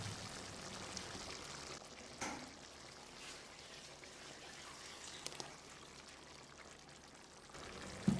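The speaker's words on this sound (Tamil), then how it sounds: "நம்ம அரைச்ச இந்த பேஸ்ட்டை கொதிக்கிற குழம்புல ஊற்றிடலாம்" Thick ground paste pours steadily into a simmering chickpea curry, a soft continuous wet rush with occasional splashes, no voices.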